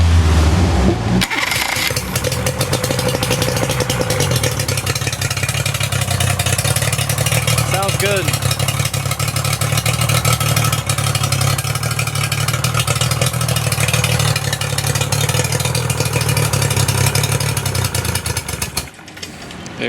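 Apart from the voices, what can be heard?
Yamaha outboard motor starting and running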